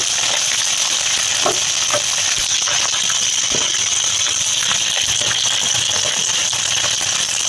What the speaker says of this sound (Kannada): ಮೆಣಸಿನ್ಕಾಯಿ ಮತ್ತು ಕರಿಬೇವು ಹಾಕಿ ಸಿಡಿಯುತ್ತೆ